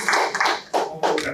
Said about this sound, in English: let's give a round of applause for our participants up here